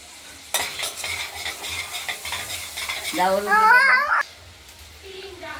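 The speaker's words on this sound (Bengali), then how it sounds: "একটু নাড়াচাড়া করে নেওয়া হলো আলুগুলোকে" Potatoes frying in a wok, the dish done with cauliflower and panch phoron, are stirred with steady scraping and a soft sizzle for about three and a half seconds, a voice briefly rising over it before the clatter stops and quieter kitchen noise remains.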